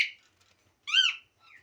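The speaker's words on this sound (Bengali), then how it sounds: "এই যে পাখি ডাকছে আমাকে" Pet birds call at feeding time with a few short, clear chirps and whistled notes, close by and separated by silence.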